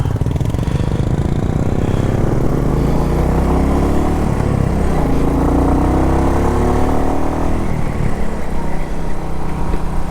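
Royal Enfield motorcycle engine running steadily up close in Warren, Ohio, a continuous low throbbing exhaust note with slight shifts in pitch, loud and without any voices.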